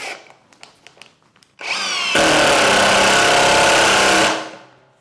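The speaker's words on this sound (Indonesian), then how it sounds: "sekarang kita coba sekrup yang lebih panjang. Ini 2 in ya. Ini saya coba pakai torsi 2." A Tekiro CD-ID2071 cordless brushless impact driver at torque setting 2 drives a long 2-inch screw: a few light taps, then a loud close whir that turns into steady hammering impacts for about two seconds before winding down.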